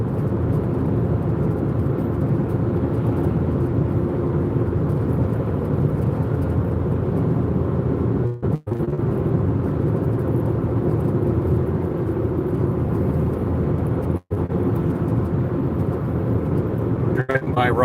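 A car drives steadily along a road on a long trip near Rock Island Dam on the Columbia River, its continuous low engine and road rumble filling the cabin, broken by two brief dips.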